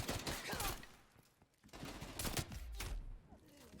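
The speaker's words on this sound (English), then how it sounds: "Enemy sniper taking shots." Sniper and other rifle fire in Call of Duty Vanguard cracks in several sharp bursts, some near and some distant, against a busy battlefield background.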